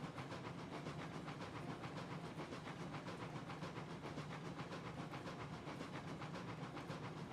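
A long freight train of twenty cars picks up speed in the Railroads Online video game, a steady dense rumble and hiss with faint rhythmic clatter, loud and continuous with no talking.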